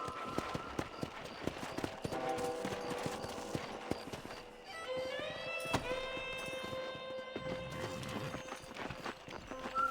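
Horse hooves clip-clopping in Red Dead Redemption, a steady, close trotting rhythm that runs throughout, with a brief whinny partway through and no talk.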